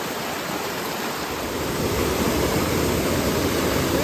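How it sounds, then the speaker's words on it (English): A wild river in wilderness backcountry rushes past as a dense, continuous roar of churning water, growing louder partway through as if getting closer, with no talking. "It's really a wild river."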